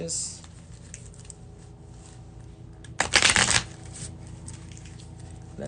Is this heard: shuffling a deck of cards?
yes